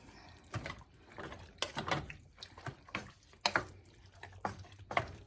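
A spoon stirs Cincinnati-style chili with black beans in a pot, producing soft wet scrapes and thuds in irregular bursts, close but quiet, with brief gaps between strokes.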